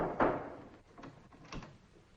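An indoor door opens quietly, with a soft clunk at the start followed by fainter bumps and creaks as it swings.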